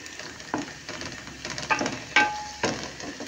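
Onions sauté in a pan for Thracian chicken kapama, making a soft close sizzle with a few louder scrapes and clinks from stirring, brief and fairly quiet with no talk.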